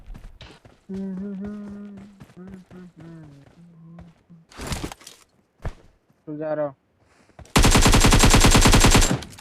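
In the BGMI video game, an M762 rifle fires a long, rapid automatic burst that dominates the last two seconds. Before it, a voice talks, with a few scattered single shots and footstep-like taps.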